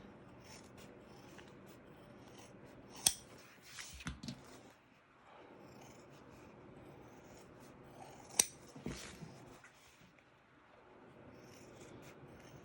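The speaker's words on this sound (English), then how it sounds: "Grab your scissors and round your corners." Scissors cutting rounded corners on a fabric zip bag, two sharp snipping bursts a few seconds apart, each followed by soft rustling of fabric, close and fairly quiet.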